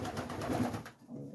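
Racing homing pigeons coo in a low, rounded, continuous murmur close by, a steady throaty warble that drops off briefly near the end.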